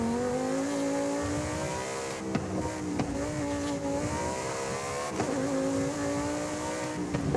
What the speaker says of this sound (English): I think the mid-engine rear-wheel drive setup of it is what makes it more interesting to drive than like a regular Huracan.